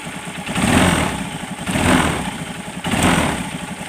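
A carbureted Honda Beat scooter engine, running low on oil from an overdue oil change, idles steadily up close, its rough mid-pitched drone swelling in three gentle pulses.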